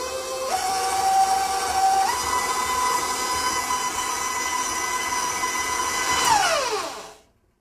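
A stand mixer beats peanut butter pretzel cookie dough, its motor whine stepping up in pitch to medium-high speed, holding steady, then winding down to silence.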